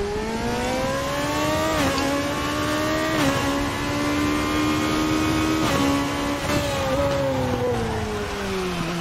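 Race car in a racing video game running off the track onto the soil, engine droning and shifting pitch steadily throughout, with a few brief dips as it slides and recovers; no one talks.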